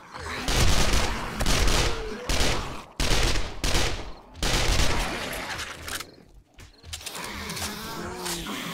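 Gunfire in 7 Days to Die, Alpha 17 Experimental, heard as loud repeated bursts of shots in dense volleys with short pauses, followed by quieter rumbling and creature-like growls.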